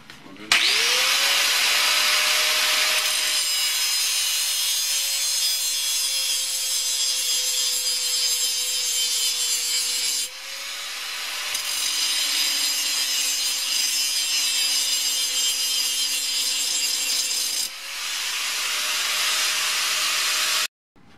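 A grinder cuts into an O1 drill rod tool steel boring bar in three long passes, each a loud, sustained gritty rasp over a steady motor whine, separated by brief pauses.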